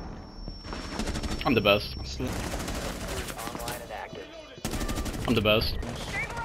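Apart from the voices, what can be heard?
SMG gunfire in a video game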